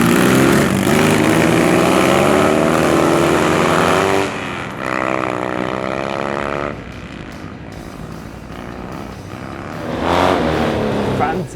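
Vintage 1960s and 1970s Triumph motorcycles roar up the steepest hill in Los Angeles, engines straining loudly under hard throttle, then easing and surging again as they climb.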